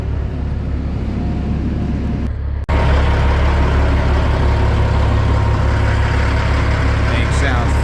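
A Peterbilt 379 semi truck's heavy diesel engine idles with a loud, steady, deep rumble up close, briefly dipping before resuming its constant drone.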